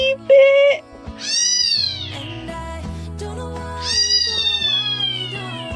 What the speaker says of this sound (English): told you it was a little kitty